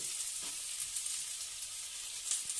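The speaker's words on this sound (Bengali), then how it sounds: "তো এবার দেখো পুঁই শাকগুলো দিয়ে দিচ্ছি।" Malabar spinach sizzling in a frying pan, a faint, steady hiss of frying with a few soft stirring sounds and no talking.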